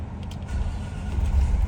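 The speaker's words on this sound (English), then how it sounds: "the engine will start." Diesel engine of an MCI Van Hool coach bus starting from the rear engine switches, a steady low rumble that builds slightly in strength, close and loud, with no voices.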